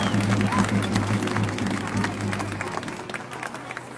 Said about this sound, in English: Give those kids a round of applause.